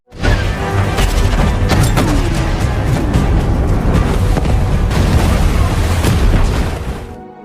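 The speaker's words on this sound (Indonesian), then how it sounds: "Tim siaga tempur langsung diperintahkan untuk menjatuhkan bom air ke perairan." Heavy rumbling booms of underwater depth charge explosions roll on continuously, a loud, dense roar with crackling bursts layered over a deep low-end.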